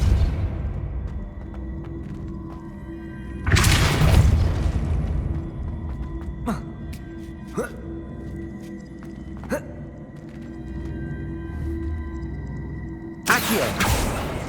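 Depulso spell in Hogwarts Legacy, cast as two heavy booming bursts several seconds apart, with faint sharp pops and a low rumbling ambience between them.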